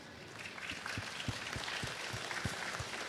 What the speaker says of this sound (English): You just started a round of applause for one of your fans.